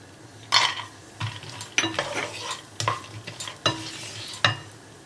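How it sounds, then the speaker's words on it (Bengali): Whole garam masala and cashews stirred in hot oil for a Bengali-style chicken ghonto, with a steady low sizzle under repeated scraping and clinking of a utensil against the pan, about six strokes in a loose rhythm, close by and alone. "আমি গোটা গরম মশলাটা ফোড়ন দেব, কাজুটা দিয়ে দেব"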